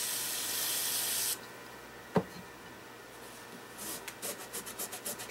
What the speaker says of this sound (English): I will just soak it with a carb cleaner, okay?